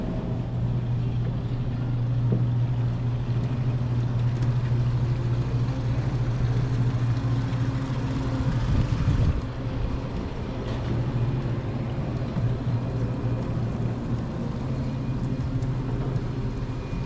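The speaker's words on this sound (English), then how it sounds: "Got the motor running." A fishing boat's motor runs at a steady low drone near Fleming Key, with water and wind noise around it and a brief louder surge midway; no talking.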